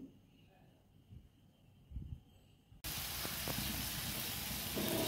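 Ridge gourd, gourd stems and sweet pumpkin frying with turmeric and salt: a quiet stretch with a brief voice, then a loud, dense sizzle that bursts in abruptly and holds steady to the end.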